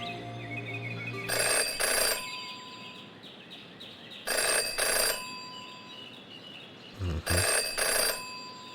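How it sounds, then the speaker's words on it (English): Telephone ringing in the Jenny LeClue video game: three separate bursts of bright, trilling bell rings, each a double ring, spaced a few seconds apart over a quiet ambient background. "Jenny had learned never to ignore a ringing phone"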